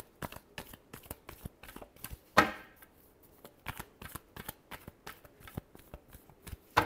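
Tarot cards shuffled by hand in a quiet room, a soft run of rapid rhythmic taps and flicks, with one louder riffle burst midway.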